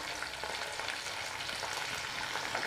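Okra sizzling steadily in a hot pan of oil for a tamarind stew, a dense continuous frying crackle close by with no voices.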